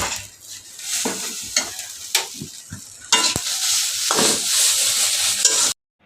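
Gulsha fish frying in a pan of oil, a steady loud sizzle with stirring clatter and scraping spatula hits, ending abruptly.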